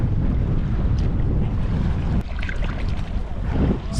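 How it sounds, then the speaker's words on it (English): Strong wind gusting over a lake while canoeing, a loud steady roar of buffeting across the microphone with choppy water sounds beneath it and no talk. "It's too windy, we're being blown back to shore."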